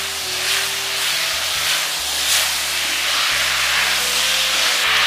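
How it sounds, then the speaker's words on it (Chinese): Pork belly stir-fried with soy sauce in a hot wok gives off a steady, loud sizzling hiss in pulsing waves, with music playing underneath. "继续给它翻炒一下，接着给它来上两勺的生抽，把酱香味给炒出来"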